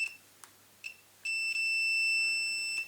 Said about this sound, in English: an open circuit, OL, open circuit, and the buzzer is indicated